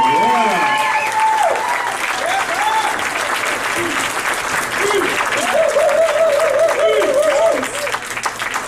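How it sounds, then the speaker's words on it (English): Loud, sustained applause from a comedy club crowd at a stand-up graduation show, with cheers and whoops rising over steady clapping throughout, voices calling out near the end. "I'll give a big round of applause on number 5 for Lisa McFadden"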